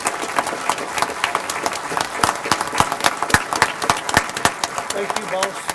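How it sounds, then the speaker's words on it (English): Audience at an awards ceremony gives a round of applause: dense, lively clapping with sharp individual claps standing out, sustained throughout, with crowd voices mixed in underneath. "I want to give our executive director and our board of directors a round of applause"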